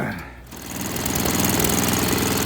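A small snowblower engine runs steadily after a friction disc repair, a loud continuous chugging drone that dips briefly near the start and then holds even, close to the microphone with no voices.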